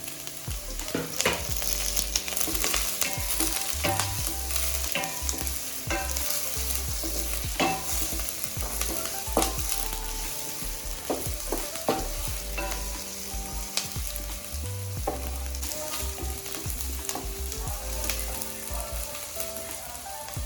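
Cut chillies frying and sizzling in a pan for a semi-gravy crab fry, a steady loud crackle with scattered pops and scraping stirs throughout, no talking.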